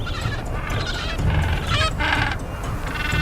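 A penguin gives loud, honking cries in several bursts over a steady roar of strong wind in a snowy setting.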